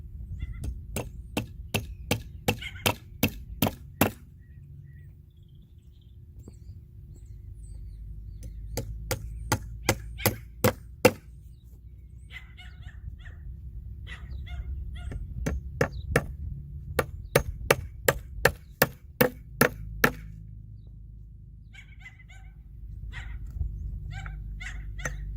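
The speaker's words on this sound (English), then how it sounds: "what I'm gonna do is add another nail to it, since I only put one of them in there." A hammer drives a duplex nail into a wooden foundation form outdoors, sharp strikes falling in quick clusters of several blows with pauses between, while a neighbor's dog barks intermittently in the background.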